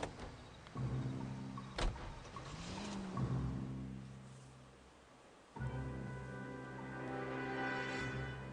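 A car in the video game L.A. Noire drives along with a low engine hum that shifts in pitch as it speeds up and slows, alongside a few sharp clunks and a quieter stretch before the engine rises again.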